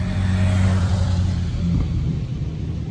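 A riding marshal's near-superstock motorbike passes on the Isle of Man TT course, a loud, steady engine rumble with a low droning tone that holds at close range.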